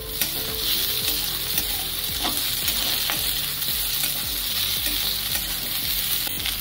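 Green chillies and a small seeded tomato added to onions browning in a pan, frying with a steady loud sizzle and repeated stirring scrapes throughout, no talk.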